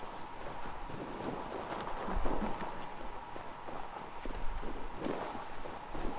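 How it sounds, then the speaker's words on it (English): Horse hooves clip-clop in Assassin's Creed Valhalla, a steady walking rhythm of soft thuds over wind-like background noise, continuous and moderately near. "are these guys on a horse?"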